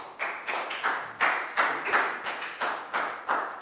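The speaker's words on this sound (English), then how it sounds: "a big round of applause for Pat" A Year 4 maths class claps in unison for a pupil, about ten evenly spaced sharp claps in a steady rhythm, each ringing briefly in the room.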